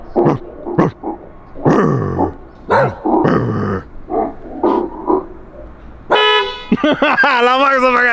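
Recorded dog barks and growls play from the external speaker of a Tesla Model 3 in short loud bursts among speech, ending with a honking, horn-like tone.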